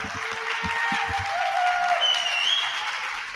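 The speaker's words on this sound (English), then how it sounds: "I loved hearing that applause" Audience applause at a conference session fills the room as a steady, dense wash of clapping that holds at an even level throughout, with no clear speech over it.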